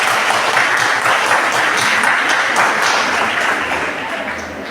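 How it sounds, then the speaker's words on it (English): Sustained audience applause fills the hall at a chest diseases institute ceremony honoring nurses and speakers, dense steady clapping that tapers slightly toward the end. "A big round of applause to everyone of the speakers."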